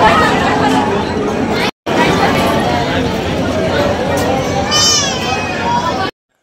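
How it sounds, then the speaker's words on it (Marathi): Dense crowd chatter fills a darshan queue at the Ambabai temple, a steady murmur of many voices with a brief cutout and a child's cry rising near the end. "तर इथे बघा किती गर्दी होती"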